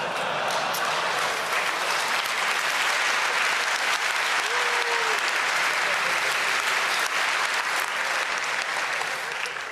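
A conference audience breaks into sustained applause with some cheering, a loud, continuous roar of clapping held throughout, with a brief voice rising through it partway.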